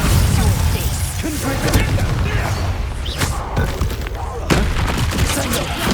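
Hogwarts Legacy combat with Bombarda spell explosions, a dense run of sharp bangs and booming blasts crowding over one another, loud and chaotic, with a voice briefly audible in the mix.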